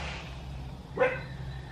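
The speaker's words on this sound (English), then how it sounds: "Harper, Bailey, can you stop barking" A single short dog bark rings out at a distance over a quiet background hum.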